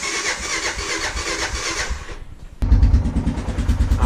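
A Honda Foreman 450 ATV engine cranks and catches, first a steady whirring turnover, then a short silence, and finally a loud, rough, thumping idle up close.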